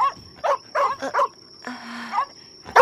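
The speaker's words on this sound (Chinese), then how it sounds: "师父，您有没有听到狗叫？" In a kung fu action film, dogs bark several times in quick succession, sharp and fairly close, with a brief pause before a last bark.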